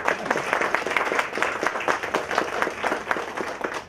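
Steady applause from an audience at a Telugu title-conferment ceremony, a dense continuous patter of many hands clapping at even loudness throughout, with no voices over it.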